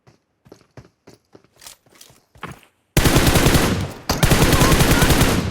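Gunfire in the mobile game PUBG Mobile: scattered single shots and short bursts, then a sudden loud stretch of sustained rapid automatic fire that briefly dips and resumes, with no talking.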